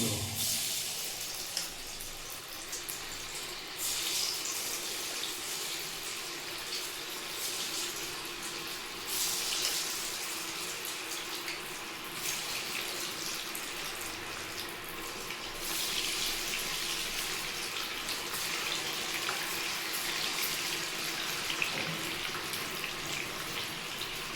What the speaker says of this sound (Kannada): ಎಣ್ಣೆ ಬಿಸಿಯಾಗಿದೆ. ಈಗ ಮಶ್ರೂಮ್ ಹಾಕ್ಕೊಳ್ಳೋಣ.